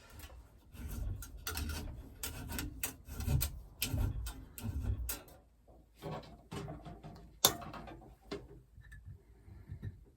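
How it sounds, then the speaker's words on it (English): Steel file rasping across guitar fret wire to shape its radius, a close series of rough scraping strokes in uneven bursts with brief pauses and a sharp knock near the end. "the first thing I'm going to do is just radius the fret wire"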